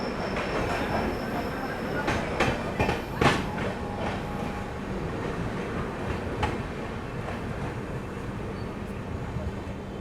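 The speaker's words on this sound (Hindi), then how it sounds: "ट्रेन अपनी जो है बेगूसराय स्किप कर रही है।" Passenger train, the Poorvottar Sampark Kranti, running through Begusarai station without stopping, heard from on board as a steady rumbling roll with wheel clatter and a few sharp clicks and squeals, loud and continuous.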